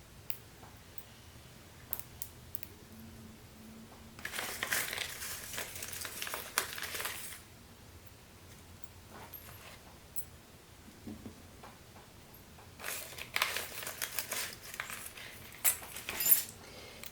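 Plastic bags of crushed fused glass pieces being handled, giving quiet crinkling and fine gritty clicking in bursts with pauses between, close but faint.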